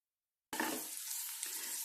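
Kasturi methi tipped into a hot chicken-gravy tadka sizzles sharply, a dense crackling hiss starting suddenly after a short silence and holding steady at close range.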